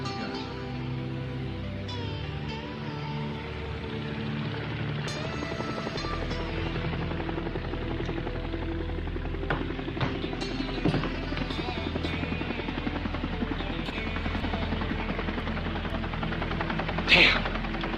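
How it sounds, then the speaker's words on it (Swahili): A helicopter drones steadily overhead in a war film dubbed into Swahili, its low rotor throb continuous beneath swelling background music, with a brief sharp burst near the end. "Mbona tunataka kufuatwa na helikopta sasa?"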